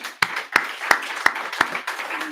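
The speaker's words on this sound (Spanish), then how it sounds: "Creo que se merece un fuerte aplauso." Applause breaks out after a talk at a leadership event in Seville, with a few sharp, distinct claps standing out over a dense, fairly close wash of clapping that builds and then settles.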